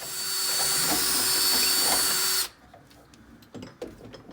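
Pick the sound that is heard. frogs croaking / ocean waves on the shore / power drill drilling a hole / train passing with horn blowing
power drill drilling a hole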